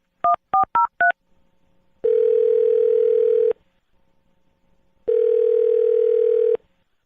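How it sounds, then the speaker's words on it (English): Four quick touch-tone dialing beeps on a telephone, then two long steady ringback tones separated by a pause while a call goes through; clear and close, with no talking. "I'm going to dial this phone right now"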